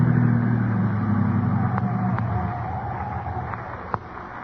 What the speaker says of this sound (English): I'll drive the car off the road.